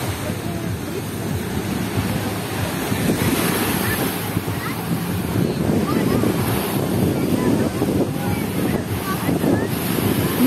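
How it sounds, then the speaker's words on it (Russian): Sea surf washes steadily onto the shore at Luzanovka beach in Odesa, with strong wind buffeting the microphone in a continuous, fairly loud roar and occasional faint voices in the background. "Море шумит, сильнейший такой у нас ветерок."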